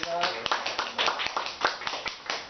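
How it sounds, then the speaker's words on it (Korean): An indoor audience at a lecture and Q&A session claps in scattered, uneven applause, a moderate patter of hand claps close by with brief talk at the start. "김현수 교수님 이야기하니까 박수 한번 쳐줘야 되겠네"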